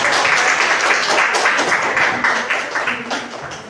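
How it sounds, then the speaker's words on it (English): Loud, continuous audience applause at a morning team-building session, dense clapping that gradually thins and softens toward the end, with no speech over it. "A round of applause."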